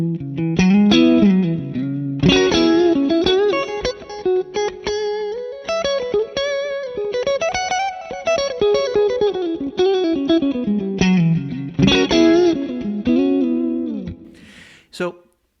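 Electric guitar played through a tube amplifier, a smooth sustained melodic line with chorus-like shimmer and light distortion, gliding up and down in pitch for about fifteen seconds, loud and alone.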